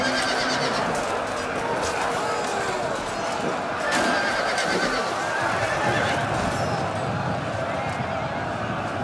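Horses whinny and neigh repeatedly amid the busy battle din of a Total War multiplayer siege game, with hoofbeats, shouting troops and other clatter, while someone talks over it.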